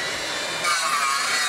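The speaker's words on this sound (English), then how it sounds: "I've got the world's first cordless miter saw, powered by nickel-metal hydrite." A Makita cordless miter saw powered by a nickel-metal hydride battery bites into a piece of wood, a brief, bright, rasping cut that grows louder partway through and carries alone, close to the listener.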